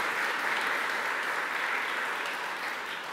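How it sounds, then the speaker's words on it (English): Audience applause after a conference talk, a steady wash of clapping from a room full of people that continues evenly and fades slightly at the end. "A bit of a round of applause for Mel"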